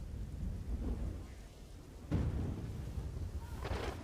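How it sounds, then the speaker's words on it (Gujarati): Heavy, unbroken monsoon rain pours down over Porbandar, a dense steady hiss of downpour with a deeper rumble swelling partway through, no voices. "છેલ્લા 24 કલાકથી અવિરત વરસાદને કારણે 16 ઇંચથી ઉપર વરસાદ પડ્યો છે."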